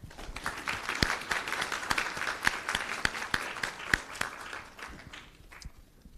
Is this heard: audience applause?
yes